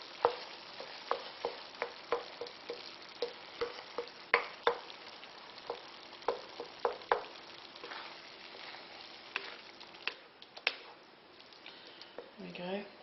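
A gravy meat pie filling simmers in a pot while being stirred, with quiet bubbling and a run of soft, regular spoon knocks and scrapes, fairly faint and close, no talking.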